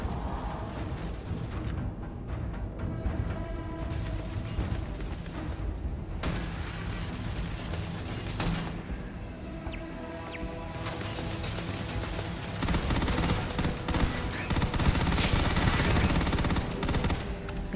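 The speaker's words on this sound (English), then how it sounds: "think I heard a turret again" Turret fire in the video game Starfield, a continuous rattling barrage of rapid shots with mechanical clatter that runs throughout and grows louder toward the end.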